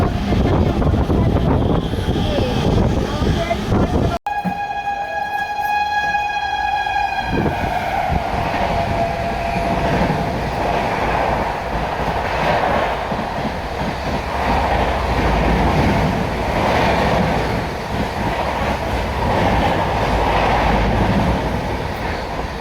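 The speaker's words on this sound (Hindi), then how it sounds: "डेडिकेटेड फ्रेट कॉरिडोर है DFC, उस पर जा रही है गुड्स ट्रेन।" A goods train runs along the Dedicated Freight Corridor with a loud, steady rumble and rattle of wagons under heavy wind noise, and a long horn blast sounds early on, heard from aboard a moving passenger train.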